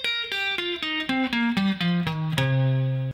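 Lead guitar runs a pentatonic scale in the standard box position, eight or nine clean plucked notes stepping evenly downward in pitch, the last note ringing out, played alone.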